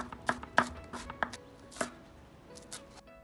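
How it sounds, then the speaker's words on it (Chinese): Knife chopping green pepper into fine strips on a board, a handful of crisp, uneven cuts spread over a few seconds, close and fairly quiet, with no voices. "切成细丝，放入土豆中。"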